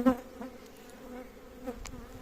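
Honey bees and drones buzz close by at a hive in a low, continuous drone, with a few louder passes as individual insects fly near.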